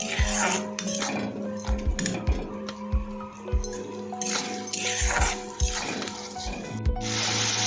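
A utensil scrapes and clinks against a pan as salt and sugar are stirred into frying mung dal for a fish-head dish, with repeated knocks and rubbing strokes over a faint sizzle.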